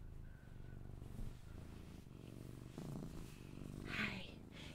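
A cat purrs softly and steadily, a low continuous rumble running through the whole stretch, with a brief brighter rustle near the end.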